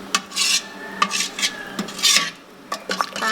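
Goat curry (gule kambing), hot and tender, stirred in a pot: a few scraping, clinking strokes of a utensil against the metal, loud and close, with short pauses between them.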